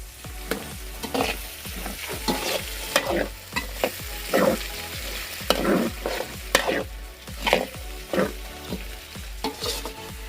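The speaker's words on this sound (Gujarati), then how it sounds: "હવે આપણે બટાકા એડ કરીએ પછી થોડી વાર હલાવીએ" Potatoes are stirred through a green turmeric curry in a pan, a spoon scraping in a steady repeated rhythm of close, moderately loud strokes over a low sizzle, with no voices.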